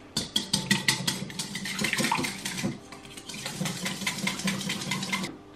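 Egg, sugar and chocolate are stirred together for chocolate cream in a Multidélices multi-cooker bowl, a brisk run of rhythmic clinks and scrapes followed by steady swirling that stops abruptly near the end.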